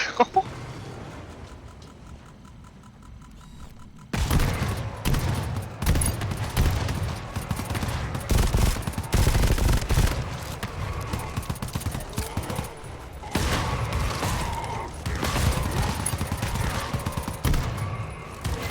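Rifle gunfire in the video game GTFO, bursts of shots and loud chaotic combat noise erupting after a few quieter seconds and continuing densely to the end.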